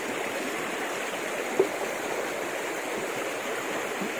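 A river flows steadily over a rapid in October grayling country, a constant broad rushing wash with one small knock, no voices.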